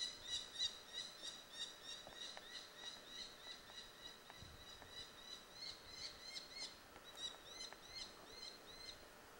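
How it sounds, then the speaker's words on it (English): Birds calling around a forest campsite in Algonquin, a run of repeated high chirping notes fairly close and constant over a faint insect-like background, with no talk. "Those freaking birds are out there."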